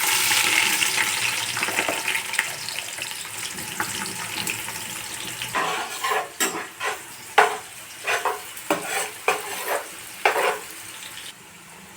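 Onions go into hot oil for a chicken curry, a continuous hiss that gives way to uneven bursts of sizzling and sputtering as they are stirred, loud and close.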